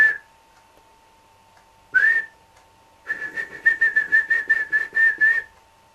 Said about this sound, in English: He whistled to see if Twilight was not listening.